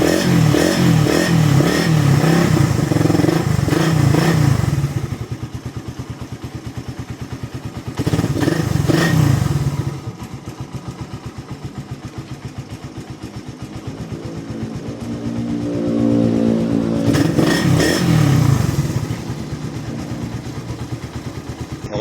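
A carbureted Suzuki Raider 150 motorcycle engine, after a throttle repair, alternates between close, loud revving bursts and a lower, steady idle with a clattering beat.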